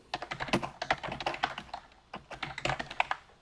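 Keys on a computer keyboard clatter in quick, uneven bursts as a short note is typed while working in RStudio, close and crisp, with brief pauses between runs of keystrokes.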